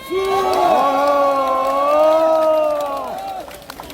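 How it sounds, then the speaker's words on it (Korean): A crowd at a political rally cheers in a loud, sustained roar of many voices rising together, tapering off toward the end, with faint clapping beneath. "우리 최승재 의원님을 위해서 큰 박수 부탁드립니다, 여러분"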